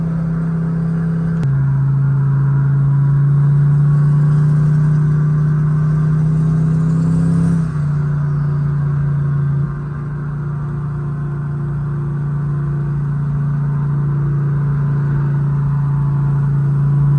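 A boosted Chevy Tahoe engine roars continuously at night, revving up with rising pitch, then dropping as it shifts and keeps accelerating in second gear with backfire, steady and close.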